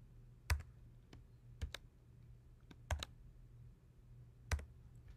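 Keystrokes on a computer keyboard as a username and password are entered at a login page, a handful of sharp, irregularly spaced clicks over a quiet background hum, with no talking.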